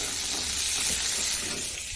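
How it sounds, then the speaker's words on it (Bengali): Peas frying in a pan give a steady, bright sizzling hiss that fills the whole span at moderate level, close and continuous with no talk over it. "মটর ভাজা হচ্ছে শোনো।"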